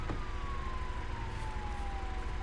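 A police car siren in a video game wails steadily with a slowly falling tone over a low engine rumble, moderately loud and continuous.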